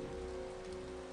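Steady rain falls during a storm in the video game Dialtown, a constant broadband wash with a low hum beneath, no voices.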